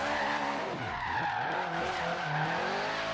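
Tires on a rear-wheel-drive Acura Integra squeal and skid steadily around a roundabout in Forza Horizon 3, a loud continuous screech with shifting pitch over the engine drone and no talking.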